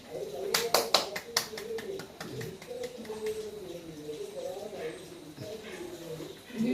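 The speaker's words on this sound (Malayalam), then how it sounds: "കയ്യടി കയ്യടിക്കും" A small group claps briefly for a mother being handed her university certificate at home, a quick burst of applause that fades into chatter and talk.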